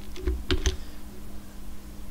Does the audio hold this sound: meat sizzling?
no